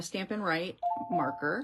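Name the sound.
doorbell chime from ring alarm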